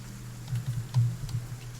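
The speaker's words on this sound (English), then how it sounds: "Typing noises." Rapid typing on a keyboard during a tabletop roleplaying session, a quiet run of small soft clicks and taps in an irregular rhythm, close by and alone with no talk.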